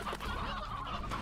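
Chickens cluck softly in the farming game Slime Rancher, a faint, steady murmur of fowl calls close by with no talking.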